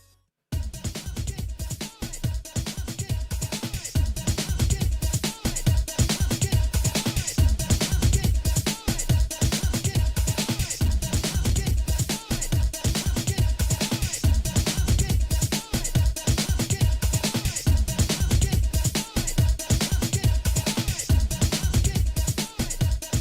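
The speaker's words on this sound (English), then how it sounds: "This is like a real example of where you would hear the clipper on a beat." A loud drum loop is crunched by a clipper, giving a dense, gritty beat. Punchy kicks and snares repeat in a steady rhythm for over twenty seconds, with no talking.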